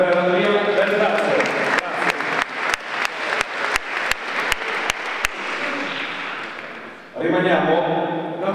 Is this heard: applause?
yes